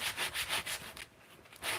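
Wood being sanded by hand with sandpaper, giving steady rhythmic back-and-forth rasping strokes, close and clear, with a short pause before the strokes resume.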